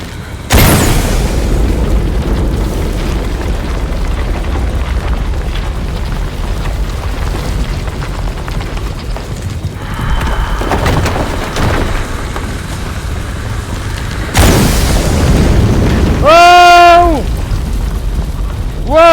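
Explosions in the video game Shadow of the Tomb Raider: loud booms and heavy rumbles among other game effects, with a sharp burst near the start, another around fifteen seconds and a warbling tone near the end.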